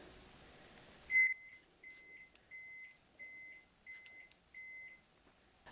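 A kitchen oven preheated to 350 degrees gives a short series of six evenly spaced electronic beeps, clear and moderately near, with a louder first tone and quiet room background otherwise.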